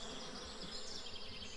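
Bees hum and buzz in a steady, continuous drone close by near their hive, faint overall and with no talk.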